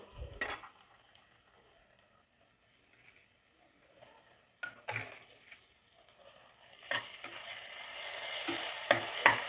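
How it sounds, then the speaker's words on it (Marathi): Washed Indrayani rice stirred into frying masala for mutton aalni bhat, giving a soft sizzle with intermittent scraping strokes of the spoon that grow louder and busier toward the end. "तांदूळ पण फ्राय करून घ्यायचे आहेत"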